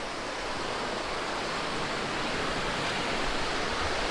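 Fast, clear river water rushes below a swaying bridge near a large dam, giving a steady, loud, broadband roar with no breaks and no voices.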